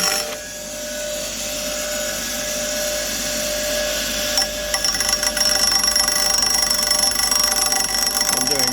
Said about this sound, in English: I'm going to grind this down so it'll fit in.